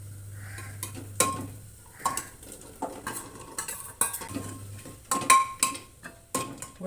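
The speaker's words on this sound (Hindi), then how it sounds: "और मैं सब्जी डाल दूँगी इसमें।" Vegetables, including bottle gourd, go into a pan of roasting spiced masala and are stirred, giving near, irregular scrapes and clinks of a spoon against metal over a faint sizzle, with a low steady hum in the background.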